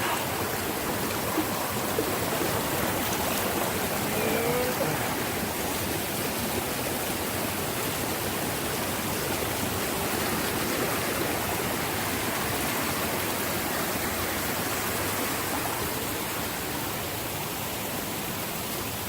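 A stream flows over a hiking trail crossing at Virgin Falls, Tennessee, a steady, close, broadband rush of water that holds even for the whole stretch with no voices.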